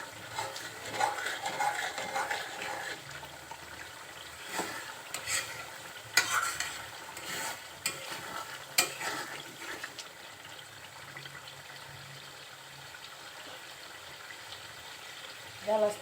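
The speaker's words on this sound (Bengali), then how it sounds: "নাড়াচাড়া দিবেন যাতে নিচে লেগে না যায়" Tripe curry frying in a pan being stirred with a spoon, a steady wet sizzle with scraping and clinks of the utensil against the pan, close up and continuous, fading toward the end.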